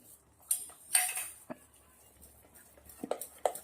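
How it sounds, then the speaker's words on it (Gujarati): A spoon clinks and scrapes against a bowl in a few sparse, quiet strokes while masoor dal batter is beaten with chopped onion. "ડુંગળી નાખ્યા પછી સરસ મજાનું ફેટી દેશો"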